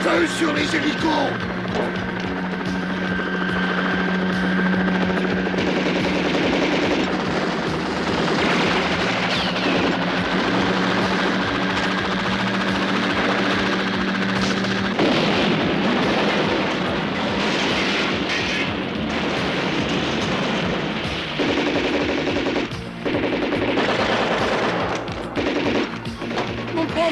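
Sustained machine-gun fire aimed at helicopters in a wartime action scene, dense rapid bursts over a continuous roar of rotors and engines, loud and unbroken throughout, with shouting voices mixed in.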